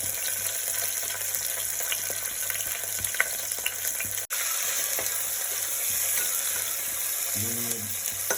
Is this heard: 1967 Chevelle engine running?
no